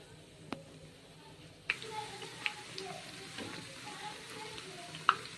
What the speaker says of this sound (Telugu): ఇలా ముంచేసి బజ్జీలాగా వేసేయడమే.